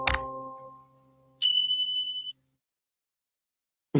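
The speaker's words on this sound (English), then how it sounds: "the beep at the end is perfect." A single steady electronic beep sound effect, clean and sustained for about a second, following a fading tonal chime, then silence with a brief burst at the very end.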